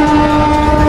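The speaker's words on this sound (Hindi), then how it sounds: "इसी ट्रेन से मैं आया था।" Indian local train running loud and continuous, with steady tonal lines from a horn or whistle held over the heavy rolling rumble of the railcars, no talk.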